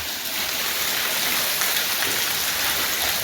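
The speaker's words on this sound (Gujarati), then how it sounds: "આવા બંબા શરૂ થઈ ગયા જો" A downpour roars continuously, a thick wash of monsoon-heavy rain drumming on surfaces close by in open farmland, steady and loud from start to finish.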